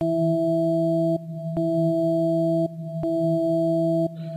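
Tonal synth notes played through a reverb effect in FL Studio's Fruity Convolver, steady sustained tones in three or four repeated bursts separated by short gaps.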